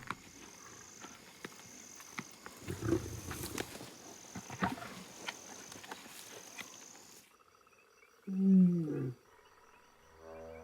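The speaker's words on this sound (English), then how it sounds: "The wounded lioness can hear the feasting." Wild lions feed on a kill, low growls and crunching under a constant night insect chorus, ending in a loud close snarling growl.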